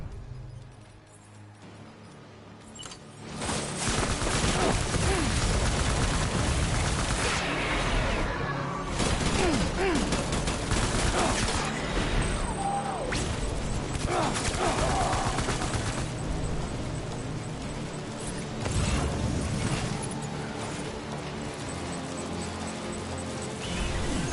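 Sustained heavy gunfire in the game Death Stranding, a dense loud barrage of rapid shots and impacts running continuously for over twenty seconds after a quieter start.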